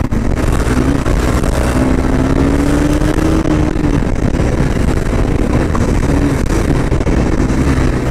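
A loud engine drones and revs continuously, a steady roar of a motorcycle at close range with wind noise and no talking.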